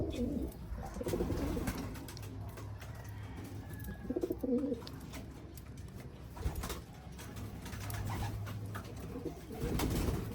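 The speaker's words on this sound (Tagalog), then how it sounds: "Ayan sa mga kalapatids" Black velvet racing pigeons cooing in a loft, several soft, low throaty coos repeating at close range amid faint rustling and background noise.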